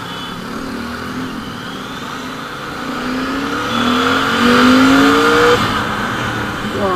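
A Royal Enfield Continental GT650 motorcycle accelerates hard in first gear, engine pitch climbing steadily as revs rise toward the limiter, loud and close, with road and wind noise building alongside.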